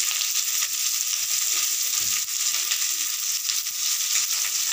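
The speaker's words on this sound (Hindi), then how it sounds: "आलू भी हमारा थोड़ा फ्राई हो रहा है" Potato pieces and vegetables fry over a high flame in a pan, giving a dense, continuous close-up sizzle broken by soft stirring scrapes; no voices.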